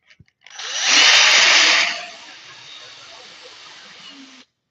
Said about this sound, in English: My little bittiest drill bit.